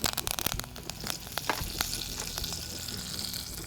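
Curry leaves sauté in hot oil in a pan, giving a steady close sizzle and crackle with a few sharp pops near the start that settle into even frying.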